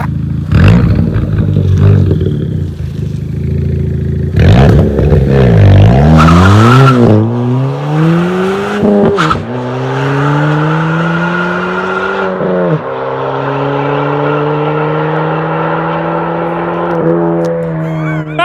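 A loud Ford Fiesta ST with straight-piped exhaust and resonator delete revs and drops through gears, with rising and falling pitch sweeps, then a long, steady droning exhaust on overrun as it coasts.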